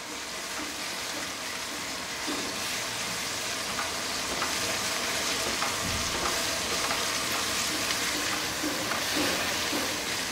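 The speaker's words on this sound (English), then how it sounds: "Now I'm going to add a tablespoon of ginger paste and a tablespoon of garlic paste and some green chilies" Ginger paste, garlic paste and green chilies fry in a hot pan with a dense, continuous sizzle, steady and close, with faint scraping of stirring underneath.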